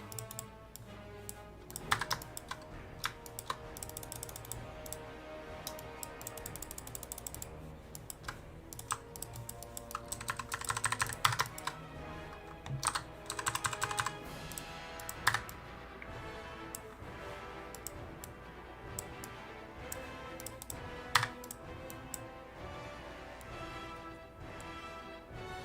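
Rapid typing on a wired computer keyboard connected to a laptop, a long run of close, crisp key clicks with irregular bursts and brief pauses, alone without talk.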